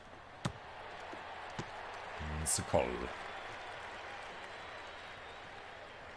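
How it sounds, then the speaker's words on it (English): Home crowd in a football video game cheering and applauding after a play, a broad, steady wash of noise that swells briefly in the middle, with a commentator talking over it. "Home crowd goes wild."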